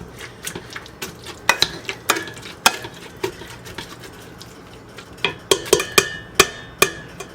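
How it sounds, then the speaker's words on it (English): A potato masher mashes cooked applesauce in a pot, with irregular clanks and soft squelching knocks against the metal, in close bursts that grow busier toward the end. "I'm just giving it a good once over with the potato masher"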